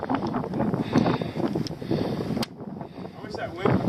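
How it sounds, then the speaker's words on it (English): Strong wind gusts buffet the microphone outdoors on a hike toward Log Lick Gap, a steady loud rushing roar that dips briefly near the middle, with faint muffled voices underneath. "wish that wind would quit going"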